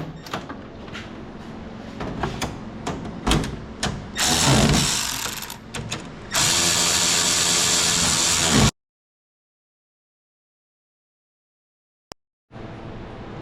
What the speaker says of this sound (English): And these I'm going to have to get on with a wrench.